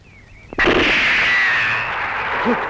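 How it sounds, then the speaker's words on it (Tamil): A single cannon fires a salute in a film scene, one loud, close boom that rolls into a long, slowly fading roar, with a brief voice near the end. "என்ன குண்டு முழங்க எங்களை வாழ்த்துறீங்களா?"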